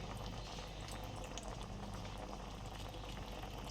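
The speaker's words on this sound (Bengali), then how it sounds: "শুধু একটুখানি মশলার পাত্রটা ধুয়ে নিয়ে সামান্য একটু জল দেবো" A little water hits frying lote (Bombay duck) fish with spice paste in a pan, producing a faint, continuous bubbling boil and fine crackle throughout.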